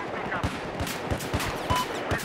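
Rapid gunfire from the Battlefield 4 video game: bursts of sharp, closely spaced shots crack in quick succession, loud and near, with a voice faintly in the background.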